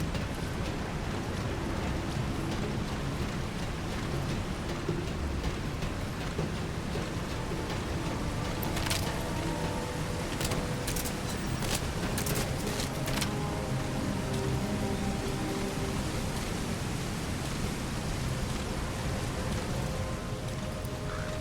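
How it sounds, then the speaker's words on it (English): Steady rain in the video game Pitch Dark, a continuous, moderately loud hiss of rainfall on surfaces with no talk, with a few brief sharper bursts near the middle. "Caution, rain approaching."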